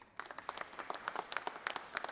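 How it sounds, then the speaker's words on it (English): Applause in the Georgia Senate chamber, a modest, fairly sparse patter of hand claps, moderately close and fading after about two seconds. "Let's give them a round of applause one more time"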